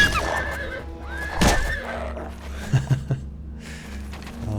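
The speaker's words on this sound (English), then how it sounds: "Hey, leave my horse alone." A horse neighs and whinnies in the video game Elder Scrolls Oblivion, one loud whinny rising near the start over steady game ambience, with a few soft hoof clops and clicks afterward.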